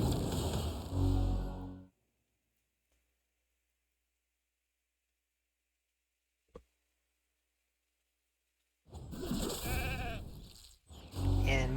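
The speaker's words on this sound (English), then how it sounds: "And Mika's a sheep now, no problem." A transformed character in the video game RAID: Shadow Legends bleats like a sheep, two loud close bursts of bleating separated by a long silence with a brief knock between.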